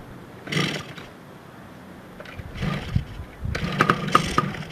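A Yamaha PW80 dirt bike being kicked over after years unused, with choke on, sputtering in short uneven bursts of engine noise that briefly catch and die, near and moderately loud.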